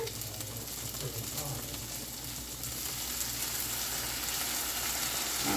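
Onions sizzle loudly in a pan as balsamic vinegar is poured in, the hiss swelling and holding steady with faint stirring clicks and no talk.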